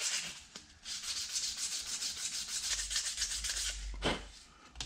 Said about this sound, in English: scuff it up with some sandpaper